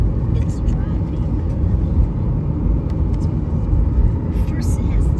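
Airplane taxiing along the ground before takeoff, a steady loud low rumble of engines filling the cabin throughout, with faint higher clicks and occasional soft voices in the background.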